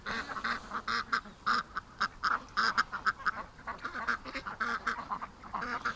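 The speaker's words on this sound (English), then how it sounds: "That bulging eye duck is actually the most adventurous when it comes to nibbling on the grass." Several ducks, including one with bulging eyes, forage on grass outdoors, giving a busy, continuous run of close quacks and chatter with rapid pecking-like pulses throughout.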